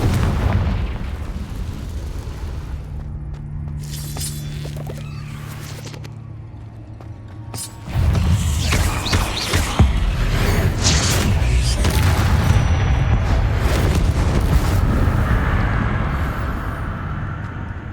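Confringo fire spells burst in Hogwarts Legacy as a string of loud, rumbling booms that blend into a continuous roar of blasts, noticeably heavier in the second half.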